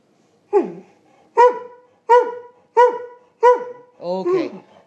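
Dog barking close by in five evenly spaced, loud barks, ending in a softer whining yelp, with no talk.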